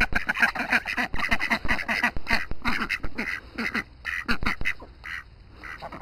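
Ducks quack loudly and almost continuously nearby, a dense overlapping chorus of rapid calls from several birds with no speech.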